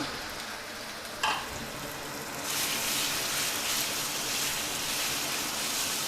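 Marinated pork hits a hot pan with ginger and a steady, bright frying sizzle swells up after a brief clatter, then holds as a dense hiss to the end.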